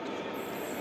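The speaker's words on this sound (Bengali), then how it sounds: "602004 নারকেলডাঙ্গা কারশেডের 12 কোচের ট্রেন।" A 12-coach local EMU train from the Narkeldanga car shed, running the Naihati–Ballygunge local service at Palta, gives a close, steady rumble of rolling wagons with no break or talk.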